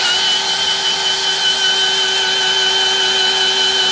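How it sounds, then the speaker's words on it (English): A steady, loud whine from a hand drill driving the oil pump of a Ford 289 engine in a 1965 Mustang holds unbroken and close-up throughout, with no voices over it. "Now, this is going to be spinning this thing with a hand drill."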